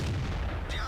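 A single booming tank cannon shot in the World of Tanks video game, fired from an E-25 tank destroyer. It is short, heavy and loud, with a brief decay.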